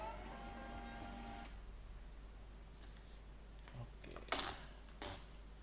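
A Wincode three-line thermal label printer runs a print job with a close, steady mechanical whir for about a second and a half, then falls quiet apart from a few soft rustles and ticks as paper is handled.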